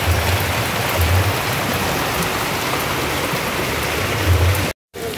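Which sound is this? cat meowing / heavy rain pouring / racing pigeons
heavy rain pouring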